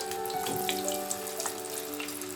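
Cauliflower florets for gobi masala sizzle steadily as they are dropped piece by piece into hot oil, a continuous bubbling hiss with faint crackles and no talk.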